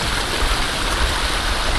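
Water pours steadily through a pondless backyard waterfall with pump-driven circulation, a continuous close broadband rush and splash with no pauses and no voices.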